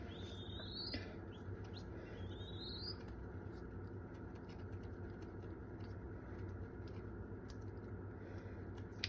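A baby mourning dove chirps in thin, rising peeps at feeding time indoors, a few clear calls near the start then faint scattered cheeps over a steady low hum and background noise.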